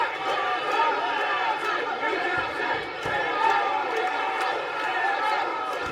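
A crowd at a staged comedy fight keeps up a dense roar of chatter and cheering, with individual voices shouting through the steady mass of noise.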